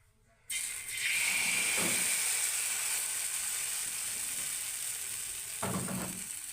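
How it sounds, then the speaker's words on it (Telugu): Ragi sweet dosa batter hitting a hot griddle pan gives a steady, close sizzle that holds for several seconds, with a couple of soft scraping clatters from the pan. "అదే పెనం మీద మళ్ళీ మరో దోశని అయితే వేస్తున్నాను చూడండి"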